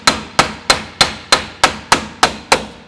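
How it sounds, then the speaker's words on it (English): Nine evenly spaced sharp metallic hammer blows, close and loud, each decaying quickly, as a sheet-metal seam is worked down against the edge of a round bar while making tubular sections for a 1920s convertible top. "I can work the seam by hammering it down against the edge of the piece of round bar"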